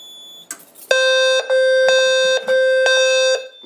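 Simplex 4010 fire alarm devices going off after a pull station is activated: a loud electronic tone in repeated long pulses with short gaps, preceded by a brief clatter, sounding alone.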